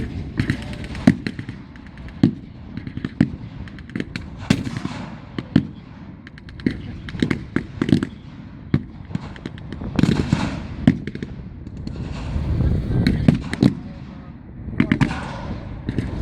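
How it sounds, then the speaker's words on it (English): A British 6-pounder anti-tank gun firing at a WWII battle reenactment amid repeated sharp blasts and crackling gunfire, with irregular bangs near and far throughout and a commentator talking over them. "a British 6-pounder is firing on the German Stuck, hoping to take it out and halt its progress"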